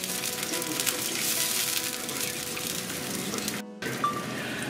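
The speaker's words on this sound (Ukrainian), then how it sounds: "Заморожену томату кинули. Хай тепер тушиться. Треба помішати." Frozen tomato paste stewing and being stirred in a pan for lenten borscht, a steady soft sizzle with scraping and squishing from the stirring, ending in a brief pause before the sizzle resumes.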